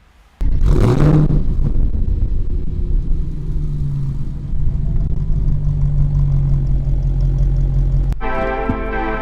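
A car with a DSG / S-tronic gearbox starts and settles into a steady, close, low idle rumble that holds evenly. A sharp click follows near the end as the engine keeps running.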